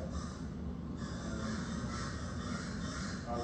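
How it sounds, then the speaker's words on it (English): Crows caw agitatedly at a bobcat that has climbed down a tree in a park; repeated harsh calls come from a short distance over a steady outdoor background, with no one talking. "you can hear the crows are pretty upset with this bobcat"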